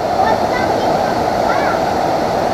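Golgota waterfall on Mt. Banahaw roars as a loud, constant wash of rushing water close by, with faint voices underneath.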